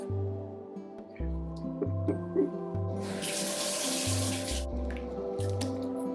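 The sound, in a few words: tap water washing vegetables in sink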